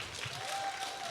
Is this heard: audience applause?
yes